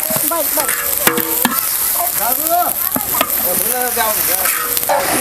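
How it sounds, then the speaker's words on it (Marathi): Thinly sliced onions fry in hot oil in a large pot over a wood-fired stove for a 150-person mutton feast. A loud, dense sizzle runs throughout, with metallic scraping and ringing squeals from stirring. "त्यामध्ये आपण हे सगळं आपण कांदा आहे ना जो उभा पातळ चिरून घेतलेले आहे ते घालूया"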